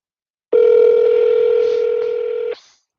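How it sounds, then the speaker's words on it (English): A telephone line sounds a single loud, steady electronic tone lasting about two seconds, then cuts off abruptly with a brief trailing blip; no voices are heard. "I think this is a perpetual ringer"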